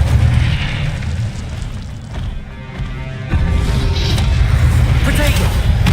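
An Incendio fire spell in Hogwarts Legacy erupts in a loud, roaring burst of flame that swells again partway through, with a person talking over the blast.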